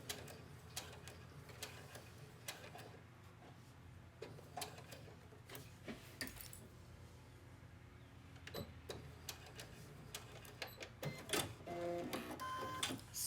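A sewing machine stitches a seam on a godet with a steady rapid mechanical ticking and irregular clicks and thumps, quiet and close, with no speech.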